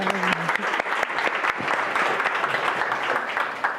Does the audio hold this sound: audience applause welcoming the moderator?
yes